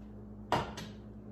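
A pan is pulled from a kitchen cupboard: a sharp clatter followed by a second, softer knock a moment later, close by in an otherwise quiet room.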